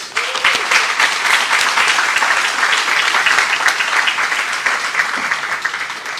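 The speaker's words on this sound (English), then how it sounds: "Let's give her a round of applause." Sustained audience applause fills a hall at a high school hall of fame induction ceremony, a dense, steady wash of many hands clapping at close range for the full length.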